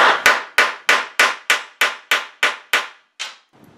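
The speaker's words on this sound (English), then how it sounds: "Nip that off, and then take a ball-peen hammer." A ball-peen hammer strikes a metal bolt end about a dozen times in a steady rhythm, each blow sharp and ringing briefly before the next, close and loud, ending with a softer tap.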